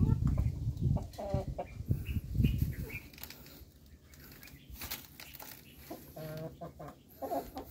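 Rhode Island Red chickens clucking and squawking in a new coop, several birds calling close by in irregular bursts with some wing flapping, louder at first and then quieter scattered clucks.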